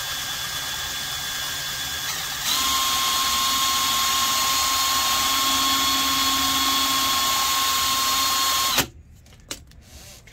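A power drill whirs steadily with a high, constant whine that steps up in speed while sanding a brass part smooth, then cuts off abruptly, leaving a few faint knocks.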